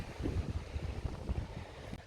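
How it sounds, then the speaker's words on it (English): Steady wind gusting and buffeting across the microphone on an uninhabited island, with a low rumble and a hint of water or kayak noise underneath. "It is a little bit windy."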